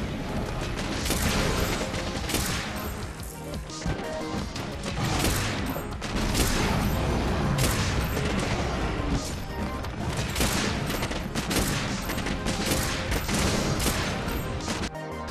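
The Empress Cannon Styx fires pierce ammo in a video game, a long run of rapid, loud repeated booming shots with mechanical clatter, nearly continuous and densely packed.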